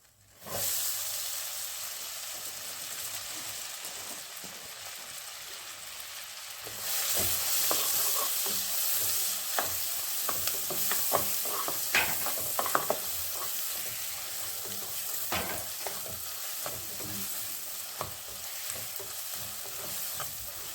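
Onions frying for restaurant-style pav bhaji, a steady close sizzle that grows louder partway through, punctuated by repeated scraping clicks of a spatula stirring in the pan, with no talking.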